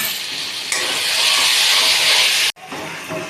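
Fish heads hit hot oil in a pan already holding ground coriander, cumin and dry chilli, setting off a loud, bright sizzle that holds steady, then breaks off sharply and resumes more softly.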